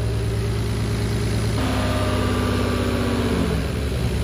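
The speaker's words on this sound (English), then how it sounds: "I feel like I hear a misfire." A fully built BMW M50 turbo engine running on E85 at first start idles with a steady, loud rumble. The rhythm is uneven from a misfire, and the pitch shifts slightly partway through.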